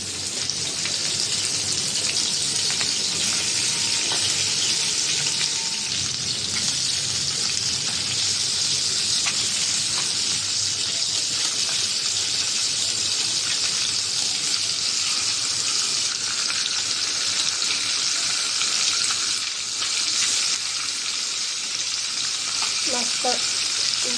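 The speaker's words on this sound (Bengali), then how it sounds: "হালকা করে ভাজা হয়েছে, আমি মাছটা উল্টিয়ে দিব এখন।" A pangas fish fries on a hot tawa with a loud, continuous, close sizzle that runs the whole time. Brief clatters near the end come from the fish being flipped.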